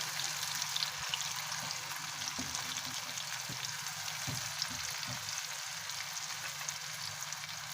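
Oil sizzles steadily in a pan while cooking egg chingari, a constant hiss with occasional soft clicks and stirring taps, fairly close and without talk.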